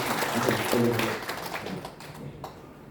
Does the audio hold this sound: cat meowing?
no